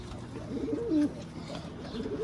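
Pigeons coo close by in a series of throaty, rolling calls, one louder swell near the middle, as two birds squabble over a nest.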